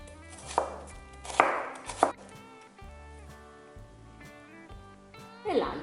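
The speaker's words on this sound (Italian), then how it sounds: "Tagliamo la cipolla" An onion is chopped with a knife on a board, with a few distinct close knocks over a background of music.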